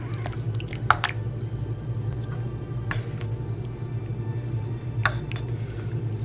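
A spoon stirs ingredients into a pot of potato soup, making soft wet squishes and light drips in irregular bursts over a low steady hum, close and fairly quiet.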